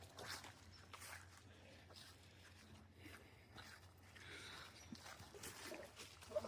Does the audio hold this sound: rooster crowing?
no